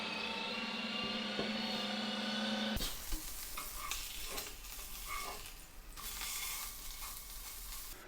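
A sausage patty fries in a pan with a constant crackling sizzle, preceded by a few seconds of motor hum that cuts off abruptly, leaving the frying alone and steady to the end.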